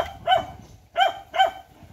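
Dogs barking near a fishing spot where a group is out line and net fishing, three loud separate barks spaced across a short stretch with low background noise.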